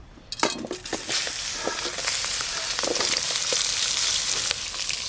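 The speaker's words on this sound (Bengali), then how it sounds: "প্রথমে কেটে ধুয়ে রাখা বেগুনগুলো ভেজে নেব" Brinjal (eggplant) pieces dropped into oil already used for frying fish, hissing up into a steady loud sizzle with a few clinks of utensils, close by and without speech.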